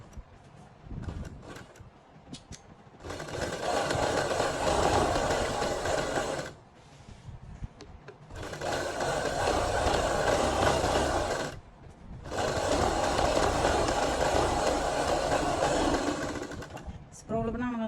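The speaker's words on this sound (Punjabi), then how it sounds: "ਜਿੰਨੀ ਆਪਾਂ ਮਸ਼ੀਨ ਤੇਜ਼ ਭਜਾਵਾਂਗੇ ਉਨਾ ਹੀ ਹੱਥ ਤੇਜ਼ ਚਲਾਵਾਂਗੇ" Umbrella-stitch sewing machine running on buckram fabric in three long, loud bursts of steady whirring, with short pauses between runs and a voice talking over parts of it.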